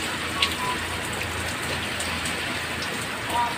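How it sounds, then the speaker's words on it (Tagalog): Heavy rain pouring down steadily in Pangasinan, a dense, even hiss of drops striking surfaces nearby with no break, faint rumbles underneath. "Kalakas ng ulan, Diyos ko ba."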